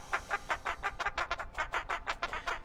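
Chickens clucking in the pixel-art sandbox game WorldBox, a quick run of short, evenly spaced clucks, about a dozen in under three seconds, moderately loud and alone.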